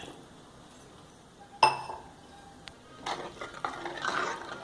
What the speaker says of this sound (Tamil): இப்போ நல்லா எல்லாம் கலந்துருச்சு